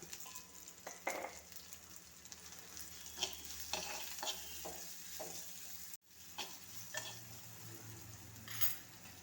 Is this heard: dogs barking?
no